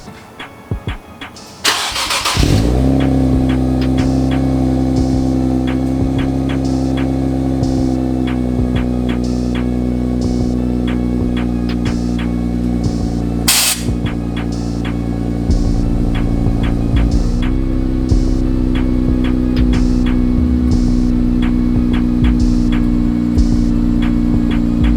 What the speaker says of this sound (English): I believe we're starting with the cold start.